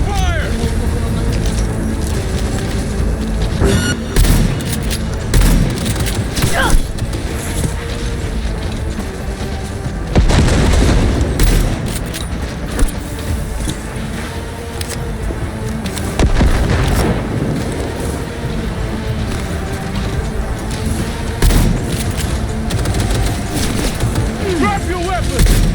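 Sustained gunfire and heavy explosions from a firefight in the video game Cyberpunk 2077, loud and dense throughout, with repeated sharp bursts and booms over a continuous roar of combat.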